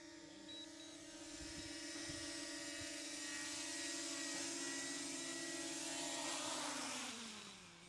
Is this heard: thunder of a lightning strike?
no